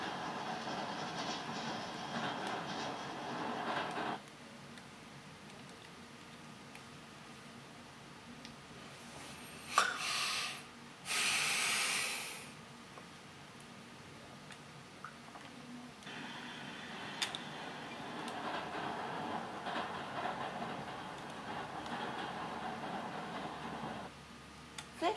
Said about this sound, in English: Need to wait for the train to come by.